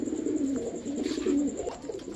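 Pigeons coo in soft, throaty, repeated low calls, close by and clear, from pairs of Rampuri and Sapchila pigeons at a pigeon seller's. No one speaks.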